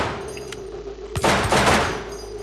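Glock 18 automatic fire in the video game Receiver: after a faint click, a single short burst of sharp, loud shots cracks out close by, then a fading reverberant tail.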